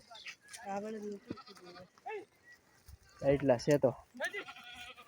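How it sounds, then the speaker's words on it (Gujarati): Goats bleat several times in short wavering cries, loud and close, between bits of casual talk from people nearby. "હજી તો બકરા આવશે"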